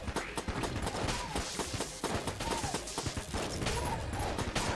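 Dense, continuous volleys of enemy gunfire fill a room of jammed veterans in Enter the Gungeon, a busy clatter of rapid shots and impacts at steady moderate loudness.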